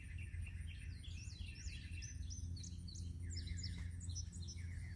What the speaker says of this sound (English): There are lots of birds around.